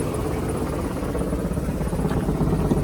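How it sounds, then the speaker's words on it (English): A 2017 Thomas Saf-T-Liner C2 propane bus engine running steadily, with the air compressor's low, rapid thumping pulse underneath, heard from below the bus, close by and fairly loud, with no talking. "You can hear the air compressor going. That's what that little thumping is."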